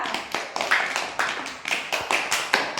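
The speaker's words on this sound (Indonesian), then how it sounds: "tepuk tangan buat Aulia" A classroom of primary school pupils claps for a student who has just finished answering, a short burst of scattered, uneven hand claps of moderate loudness with no talk over it.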